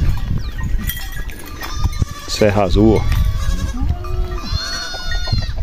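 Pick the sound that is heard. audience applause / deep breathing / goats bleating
goats bleating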